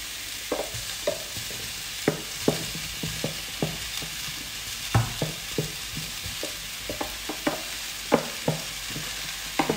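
Chili and half-cooked eggplant fry in a pan for ratatouille under a steady soft sizzle. A spatula scrapes and stirs in irregular clicks and knocks throughout, with no talking.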